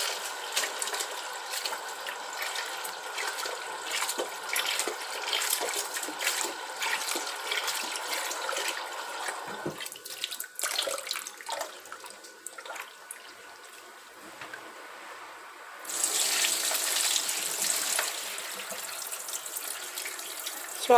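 Tap water runs steadily into a bowl while black-eyed peas are washed and peeled by hand, a continuous close splashing stream that briefly quiets with some clattering before surging louder again.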